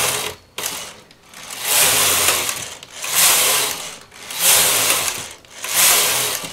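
A domestic knitting machine works rows of stockinette: its carriage makes loud, close mechanical whirring sweeps back and forth, each pass about a second long with short pauses between, and no voices.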